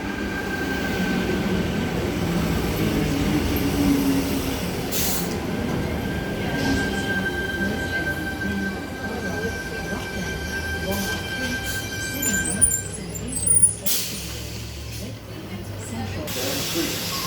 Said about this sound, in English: We have a Bondi Junction service now arriving onto platform 1.